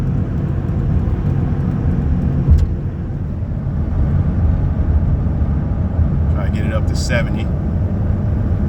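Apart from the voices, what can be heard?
2006 Toyota Tundra SR5 pickup driving on road at 65 mph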